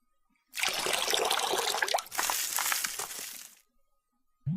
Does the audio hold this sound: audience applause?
no